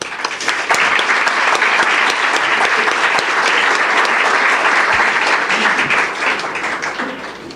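An audience at a university faculty's academic year inauguration, celebrating the Faculty of Social Sciences' 25th anniversary, applauds in a long, steady, dense wave of clapping that holds evenly throughout before easing slightly at the end.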